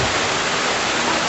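Underground water flowing inside the Belum Caves at Patala Ganga, a dense, steady rushing wash that fills the cave space, continuous and fairly loud with no voices over it.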